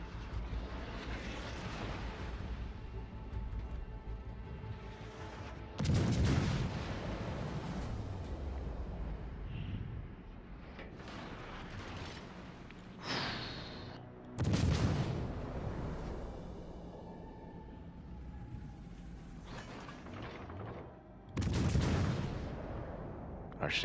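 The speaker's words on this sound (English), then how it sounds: "Who the fuck is bombing on me like this?" Bombs burst repeatedly against a player's warship in a naval combat game, heavy booming blasts landing in clusters every few seconds over a steady low rumble of engines and gunfire.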